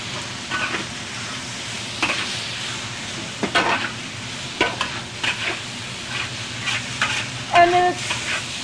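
Pad Thai noodles and bean sprouts are stir-fried in a pan with garlic, giving a soft steady sizzle. Scraping, stirring clatters break in at intervals, close by and fairly quiet.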